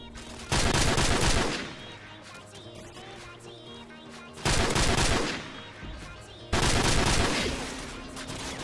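Bursts of M14 assault rifle fire in Modern Warfare Remastered: three loud, rapid volleys of gunshots, each ringing out and trailing off before the next begins, with fainter game sounds between them.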